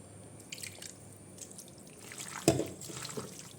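Water poured from a mixer jar into marinated beef for a beef roast, heard as a soft close drip and trickle with one sharper splash midway, no talk.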